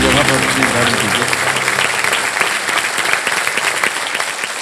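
A studio audience on the KBC quiz show gives sustained applause to welcome new contestants, dense steady clapping throughout, with a voice and music heard briefly at the start.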